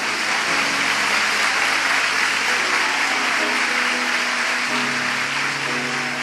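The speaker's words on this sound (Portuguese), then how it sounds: "Você pode aplaudir o Senhor por isso?" A church congregation applauds during a sermon, a dense, loud and sustained wave of clapping from many hands filling the space throughout.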